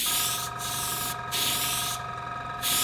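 Airbrush spraying colour onto a cake shaped like a champagne bottle in an ice bucket, a steady close hiss in three bursts separated by short pauses.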